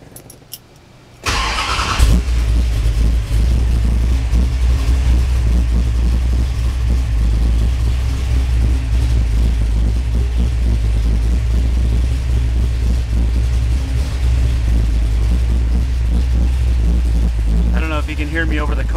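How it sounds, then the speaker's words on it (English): A car engine starts with a burst after a quiet moment, then idles and revs loudly and steadily for the rest of the run, with a voice talking faintly beneath the engine noise near the end. "I'll just start the car here."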